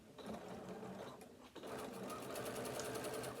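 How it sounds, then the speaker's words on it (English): Close up, a sewing machine stitches fabric from one corner to the other in a steady whir, with a short dip in the middle before it runs on evenly, with no voice over it. "take the other piece and place it perpendicular to that one, and we're going to stitch from one corner to the other corner."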